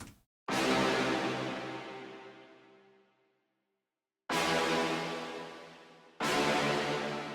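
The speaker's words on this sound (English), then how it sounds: "It's some brass shots." Brass shot samples from Splice: a long bright stab that decays over about three seconds, a silent gap, then two more sharp brass hits in quick succession, loud and alone with no voices.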